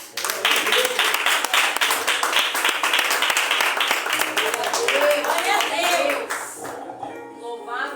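Church congregation standing and applauding, steady dense clapping near and loud for about six seconds, with music underneath, fading at the end.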